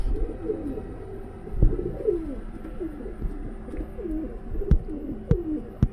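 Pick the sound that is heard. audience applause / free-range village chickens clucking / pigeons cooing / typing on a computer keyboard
pigeons cooing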